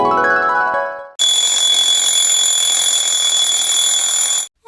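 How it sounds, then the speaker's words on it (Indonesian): An alarm clock rings loudly in a radio drama, a steady electronic ringing that starts after a short musical lead-in and runs unbroken for about three seconds before stopping abruptly. "Sabut alarm yang jengkel membangunkan Budi."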